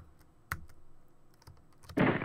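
A computer keyboard clicks during gameplay, a few sharp isolated key taps spaced across two seconds, close and dry, ending in a louder burst of noise.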